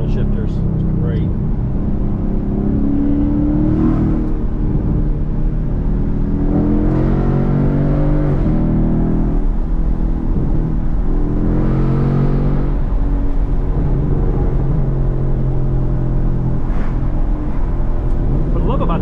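A Ford Mustang GT V8 engine rumbles and revs up and down repeatedly in a cycle of rising and falling pitch, heard from inside the car while a person talks over it.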